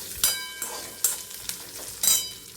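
Peanuts and capsicum are sautéed in a pan for raw mango rice, giving soft sizzling with several distinct spatula scrapes and clinks spaced through the clip, close and without talk.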